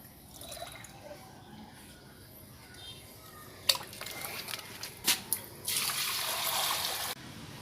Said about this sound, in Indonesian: Setelah saya ganti airnya ini setengah media ember ini, kemudian saya isi air yang PDAM yang sudah saya endapkan